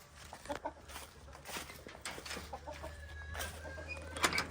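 A hen clucks softly on a farm, a few short scattered clucks and rustles at a distance over a low steady background hum.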